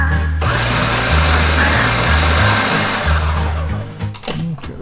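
Blender pulsing chili ingredients with no liquid added yet, loud motor bursts stepping up and down in pitch for several seconds before cutting off with a few rattles.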